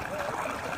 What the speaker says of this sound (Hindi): ये सामने पानी है बोर का।